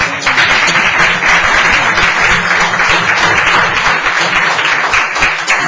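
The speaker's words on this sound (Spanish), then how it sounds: "un aplauso para ellos" Loud, dense applause from a crowd, continuous and steady throughout.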